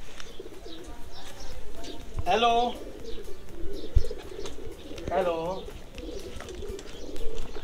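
Shahzade breed pigeons coo nearby in two distinct low throaty rolls over a busy loft background, with a voice briefly talking in between.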